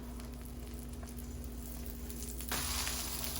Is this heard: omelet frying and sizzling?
yes